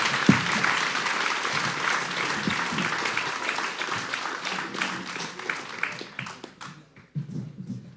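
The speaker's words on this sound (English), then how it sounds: "Let's give these guys a round of applause." An audience at a live stream event gives a round of applause, dense clapping close and steady for most of the stretch before thinning into scattered claps near the end.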